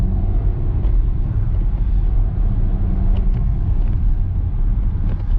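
A Volkswagen Jetta accelerating on an everyday road course gives a steady, loud low engine and road rumble that holds throughout, with no voices.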